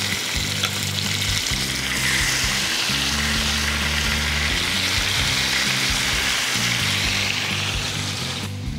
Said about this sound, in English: We're gonna get this beef right in that skillet. And you're gonna hear it sear.